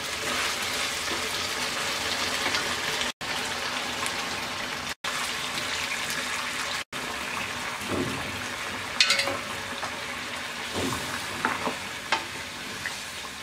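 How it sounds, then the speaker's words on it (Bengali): Hot water is poured into a pan of cucumber and chicken curry, producing a steady frying sizzle with bubbling and splashing bursts toward the end, close up, broken by a few brief cuts, with no speech. "এবার আমরা এর মধ্যে ঝোলের জন্য 3 কাপ গরম পানি দিয়ে দেব।"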